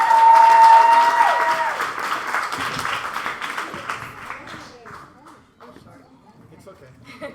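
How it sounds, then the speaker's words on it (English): Applause from an audience at a youth poetry slam, loud at first with a brief tone, then thinning out into scattered claps and murmuring voices as it fades. "Give it up for her. Clap, clap, clap."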